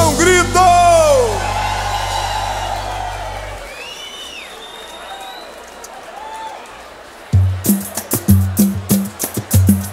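A live samba audience at a concert roda de samba shouts, whoops and cheers loudly for several seconds, the crowd noise swelling then thinning, before percussion hits and music start up.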